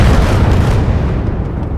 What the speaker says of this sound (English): all my guys are trying to blow them up point blank with cannons and tanks